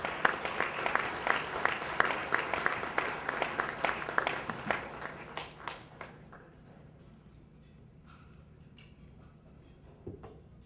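A gala audience applauds a speaker being welcomed to the stage, a dense burst of clapping that fades out over about six seconds, leaving quiet room tone with a few stray claps and small sounds.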